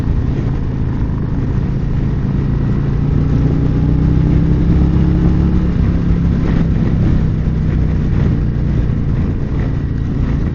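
Steady engine drone from a Harley-Davidson Road King Special touring motorcycle out on a ride, a continuous low rumble with wind and road noise, holding even and close with slight rises in pitch and no talking.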